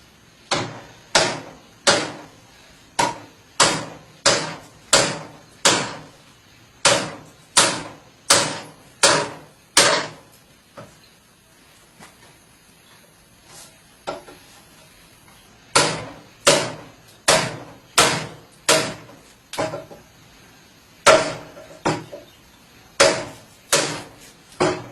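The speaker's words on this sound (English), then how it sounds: "we'll do some hammer impacts on the spine and see how well it holds up" A 3-pound steel mallet repeatedly hammers the spine of a Russian AK bayonet, loud sharp metallic impacts in quick bursts of several blows, with short pauses between series and a quieter gap midway.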